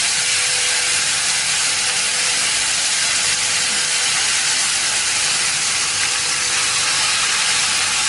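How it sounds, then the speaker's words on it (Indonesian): Sambal chili paste stir-frying in a pan for a salted fish dish, a loud, dense, unbroken hiss of frying that holds steady and close throughout. "Nah, setelah itu kita akan tumis sambalnya."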